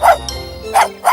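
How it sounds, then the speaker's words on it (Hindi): A dog gives three quick, sharp barks close by, a short gap after the first and another just after the second, in an animated story setting. "रस्की नीचे एक गड्ढे में देखकर भौंकने लगा"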